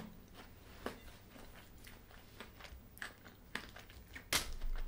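Crisp bites and crunchy chewing of an Asda chocolate honeycomb bar, close and fairly quiet, with a sharp louder crunch near the end.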